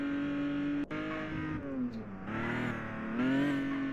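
A car in a stunt ramp racing mobile game drives with a steady synthetic engine hum that rises and dips in pitch as it accelerates, with one sharp click near the start, and no talk over it.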